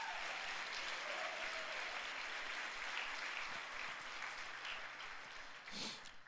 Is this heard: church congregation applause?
yes